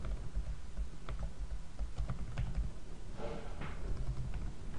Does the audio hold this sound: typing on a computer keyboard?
yes